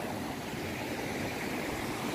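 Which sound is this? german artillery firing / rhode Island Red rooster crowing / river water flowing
river water flowing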